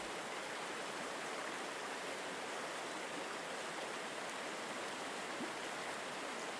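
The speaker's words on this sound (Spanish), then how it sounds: "El sonido continuo de la cascada, el suave susurro de las hojas y el murmullo del arroyo crean una sinfonía natural" Steady broadband rush of a waterfall and flowing stream, constant and even throughout with no breaks or talking; any rustling of leaves is lost in the continuous water noise.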